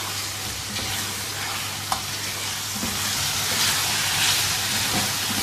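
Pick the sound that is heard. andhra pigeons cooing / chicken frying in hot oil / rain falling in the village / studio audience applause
chicken frying in hot oil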